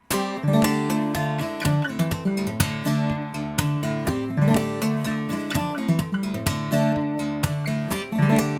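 Fingerstyle acoustic guitar in DADGAD tuning plays a rhythmic pattern of plucked notes and ringing chords, close and clear, with no voices.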